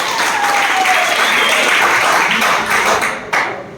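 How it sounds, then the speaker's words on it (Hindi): A seminar audience at a question-and-answer session breaks into loud, sustained applause, dense clapping close by that continues steadily for several seconds before tapering off. "जोरदार ताली।"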